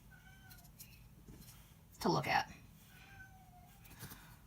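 A cat lets out one loud meow at close range, with quiet talking before and after it.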